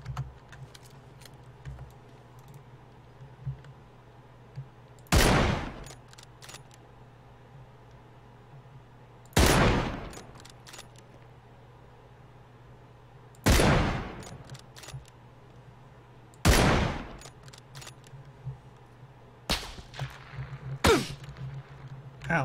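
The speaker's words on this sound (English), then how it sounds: "I heard gunshots towards us." Five loud gunshots from a sniper rifle in an online multiplayer shooter match ring out one at a time, several seconds apart, over a steady low hum with faint keyboard taps.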